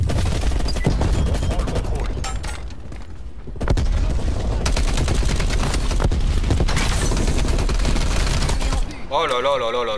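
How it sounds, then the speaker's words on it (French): Video game shooter gunfire rattles in dense, sustained automatic volleys with booming impacts, loud and close, dropping briefly near the start before resuming, with voices at times under the shooting. "le bonhomme est pas content que je tire dessus"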